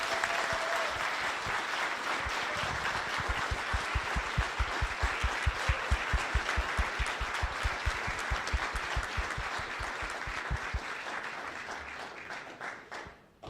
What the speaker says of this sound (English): Give them a random applause when they enter the room.